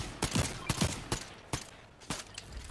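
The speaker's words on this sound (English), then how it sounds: "I shot him 4 times and it didn't even kill him yet" Rapid gunfire in a Fortnite match, about eight sharp shots in irregular bursts with a gap around the two-second mark, loud and close, with no talking over them.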